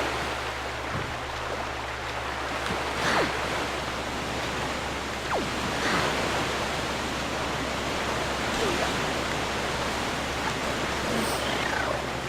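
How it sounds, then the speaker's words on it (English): Water rushes steadily in a calm forest area of the video game The Legend of Zelda: The Wind Waker, a soft continuous wash with faint chimes and swishes drifting over it and a voice talking quietly. "You probably have the quiet sound of the water rushing around."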